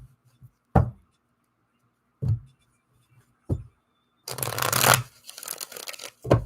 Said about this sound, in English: A couple more shuffles and then we're going to get started here.